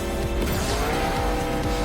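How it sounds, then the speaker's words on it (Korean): Engine roar of the Miron car in Roblox Mad City, a steady loud synthetic motor drone with tire squeal layered over it, continuous and close throughout. "엔진 소리도 음, 아까 지오토랑 굉장히 비슷한 것 같고요."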